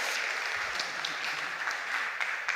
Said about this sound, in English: Can we give Mati a big round of applause?